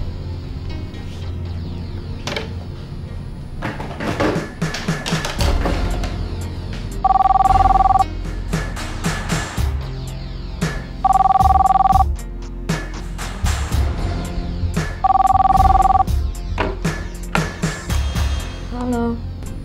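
Telephone bell rings in three evenly spaced bursts over a dim, busy indoor scene in an Indonesian television drama, with background movement and low murmur between the rings.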